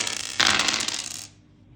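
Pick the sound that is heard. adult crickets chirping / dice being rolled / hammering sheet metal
dice being rolled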